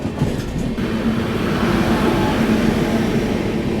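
The Bhubaneswar Duronto Express rolls slowly through Aligarh Junction, a steady loud rumble of wheels and carriages with continuous low clatter, heard from on board without pauses.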